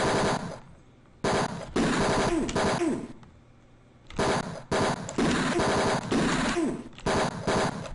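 Rapid bursts of machine-gun fire from the Mean Streets video game, loud and close, coming in several long sustained volleys separated by short quiet gaps.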